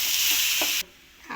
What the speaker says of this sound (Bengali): দিয়ে এটাকে একটু নাড়িয়ে ভাজা ভাজা করবো।